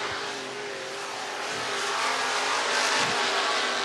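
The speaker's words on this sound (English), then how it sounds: "all the cars on the racetrack taking the checker flag" Street stock race cars roar around the I-75 Raceway track in Niota, Tennessee during hot lap qualifying, a dense continuous engine drone that builds slightly louder toward the end.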